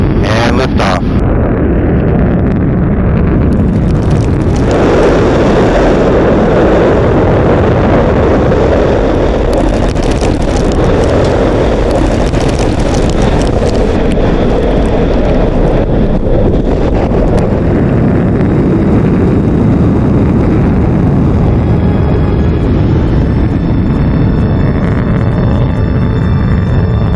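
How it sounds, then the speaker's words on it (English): A Blue Origin New Shepard rocket lifts off with a loud, continuous low rumbling roar, buffeted by heavy wind noise across the microphone, sustained without pause. "And liftoff."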